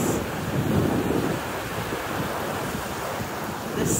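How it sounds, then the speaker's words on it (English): Rough sea waves roll and wash continuously along the shore, a steady broadband roar mixed with gusty wind buffeting the microphone. "Look at the waves."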